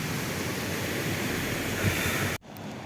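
Sea surf rolls in near Nivati fort on the Konkan coast, a steady loud wash of waves with wind rush that cuts off abruptly near the end, no voices.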